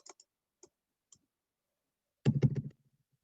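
Keys pressed on a calculator while entering a mixed fraction during a math lecture: a few sparse, faint clicks spread apart, then a quick louder cluster of taps near the end.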